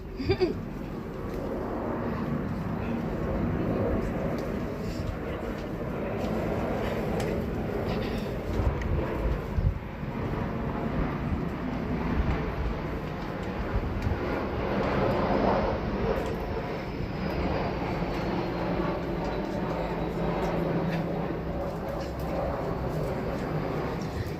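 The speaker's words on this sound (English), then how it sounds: "now there's a plane coming" An airplane passes overhead outdoors, a steady broad roar that swells slightly and fades, heard at a distance with no talk over it.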